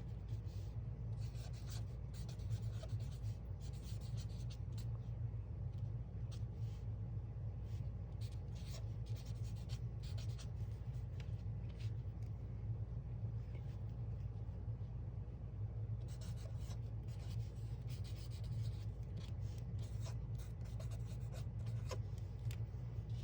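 A pen scratches and rubs across the paper of a small journal in short bursts and longer strokes, faint against a constant low rumble in the background.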